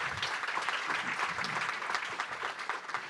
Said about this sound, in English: So we give a quick round of applause for our panelists.